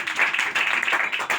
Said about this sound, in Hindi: किसी के बात पर तालियां तो बजाना चाहिए